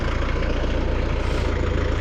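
A heavy tractor engine drones steadily up close, a low rumbling idle that holds without pause and no voices over it.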